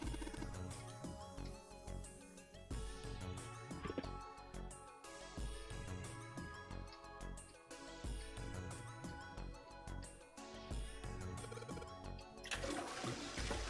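A toilet flushing in the video game 999, rushing and swirling water that runs continuously for several seconds over looping game music, with no talking.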